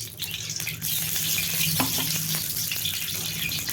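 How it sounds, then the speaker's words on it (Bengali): Chicken sizzling in hot oil in a wok, a loud continuous crackling fry with occasional stirring scrapes, close and steady throughout. "আবার কড়াই আমি তেল দিয়ে দিচ্ছি। এবার চিকেনটা কষিয়ে নেব।"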